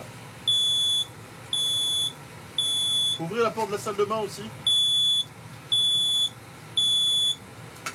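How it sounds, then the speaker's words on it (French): A smoke alarm, set off by smoke from several dishes cooking at once, sounds loud, shrill beeps in long pulses, roughly one per second. A person speaks French briefly between the beeps. "C'est l'alerte fumée"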